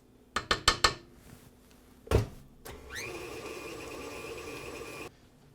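An electric mixer creaming butter and sugar for a bourbon applesauce cake. A few quick clinks and a thump come first, then the motor spins up into a steady whir that runs for about two seconds and stops.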